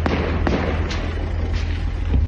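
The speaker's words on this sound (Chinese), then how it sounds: "连环爆炸巨响" Serial explosions at the Turkish Aerospace Industries headquarters on the outskirts of Ankara, heard as loud, dense, continuous rumbling with a few sharper bursts, in roughly captured news footage.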